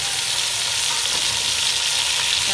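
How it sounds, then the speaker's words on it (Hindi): Potatoes and carrots fry together in a pan for a mixed vegetable sabzi, giving a steady, dense sizzle that holds at an even level throughout with no voices. "आलू जो है तकरीबन फ्राई हो चुके हैं, इसके साथ ही मैं ये इसमें ऐड कर दूंगी गाजरें"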